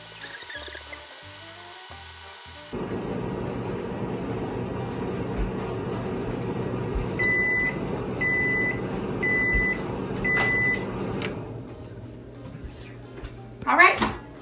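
A microwave oven hums steadily for about nine seconds, its loud, even drone starting abruptly and running alone with repeated faint electronic tones on top, then cutting off before a short clatter.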